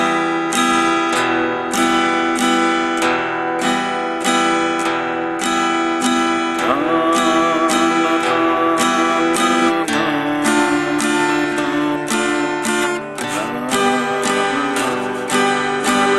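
Acoustic guitar strums chords slowly in a steady waltz pattern, a bass note and then two lighter strums in each bar, close and clear with no voices.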